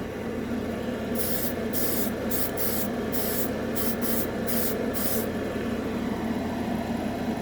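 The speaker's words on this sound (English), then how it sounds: "Spraying it a little heavy." Short hissing bursts of an airbrush spraying Vallejo Metal Color paint, around eight quick puffs in a row, over a steady low background hum.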